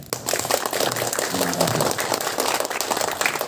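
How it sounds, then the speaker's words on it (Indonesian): Scouts at a school camp event get a round of clapping from the assembled group, a dense patter of hands throughout with scattered voices and noise underneath. "Tepuk tangan dulu buat pramuka sekalian."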